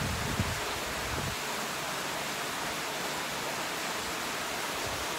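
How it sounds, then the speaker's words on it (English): Water pours from a rock-feature waterfall in a backyard pool grotto in Frisco, Texas, making a steady, even rushing hiss with no other sounds. "pool has a rock feature containing a waterfall"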